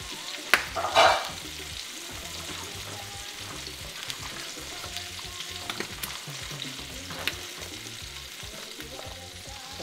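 Grated pepper jack cheese is stirred and folded into a sizzling pan of jollof risotto. A steady frying hiss runs under a few sharper scrapes and knocks near the start, with no voices.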